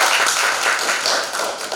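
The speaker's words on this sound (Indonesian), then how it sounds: "Coba kasih tepuk tangan dulu." A classroom of students applauds during a pharmacy lesson, a steady, dense clatter of many hands clapping together that carries through the whole moment without any voices.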